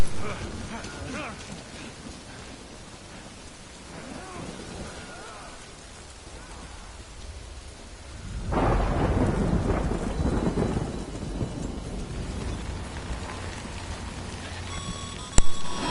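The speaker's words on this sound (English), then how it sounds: "Good thing it was raining." Rain and rolling thunder in the video game Death Stranding: a steady rain hiss builds into a loud, heavy thunder rumble around the middle, then settles back into a continuous downpour with a sharp crack near the end.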